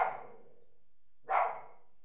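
A dog gives two sharp barks about a second apart, moderately near in an otherwise quiet room.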